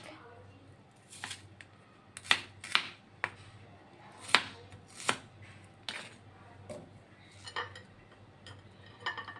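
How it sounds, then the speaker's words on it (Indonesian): A knife chops shallots on a cutting board in a home kitchen with sharp, irregular knocks spaced about half a second to a second apart, close and clear, and a voice talks quietly between the cuts. "Bawang merah juga kita potong-potong supaya dia cepat lunak"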